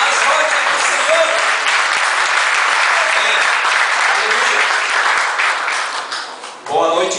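Loud, sustained clapping fills a church as the congregation applauds together, the dense ovation holding steady before tapering off briefly near the end, with a few voices rising through the noise.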